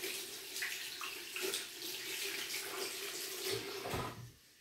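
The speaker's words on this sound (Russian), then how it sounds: "закрываем кран, выключаем воду" Water runs steadily from a tap into a sink, a continuous hissing splash that cuts off abruptly near the end.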